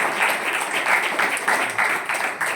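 An audience claps for a Telugu Christian skit team, a brief, steady patter of applause from a gathered crowd.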